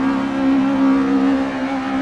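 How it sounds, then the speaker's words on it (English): Race car engines in a sim racing game, a GTi challenge round, rev in a steady, loud drone with a strong sustained tone that swells slightly and holds. No voices are heard over it. "you can hear them revving up actually"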